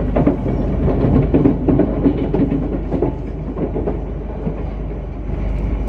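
An E3 series Tsubasa shinkansen runs on the Tohoku Shinkansen line, a continuous loud rumble of wheels on rail with rhythmic clicking heard from inside the car, no speech.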